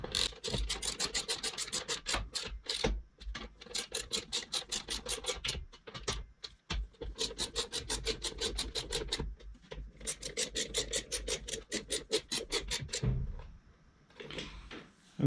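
Screws being driven in while an hour meter is installed on a Cub Cadet Ultima ZT1 zero-turn mower, heard as long runs of fast, rasping, ratcheting turns close up, broken by short pauses, with no talking.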